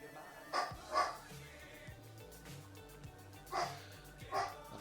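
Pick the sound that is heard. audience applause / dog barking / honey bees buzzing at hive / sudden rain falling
dog barking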